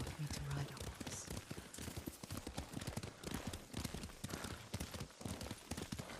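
Horse hooves clip-clopping at a steady ride in the video game Ghost of Tsushima, rapid rhythmic thuds carrying on throughout while characters talk over them.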